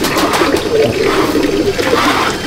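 Madrasi (Chennai) pigeons cooing in a loft at Andul, Howrah, a soft continuous murmur of overlapping coos from several birds close by, with no talking.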